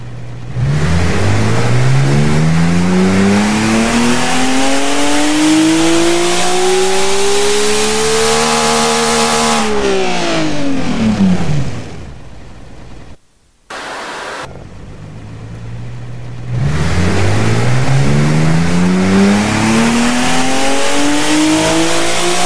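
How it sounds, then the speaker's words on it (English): A huge high-horsepower engine in the Automation car-building game revs loudly, climbing in a long sweeping rise and falling back, cutting out briefly, then winding up again, with no talk over it. "Smokes, this engine sounds absolutely insane."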